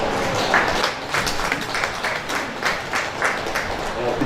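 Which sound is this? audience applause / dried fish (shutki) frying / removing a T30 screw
audience applause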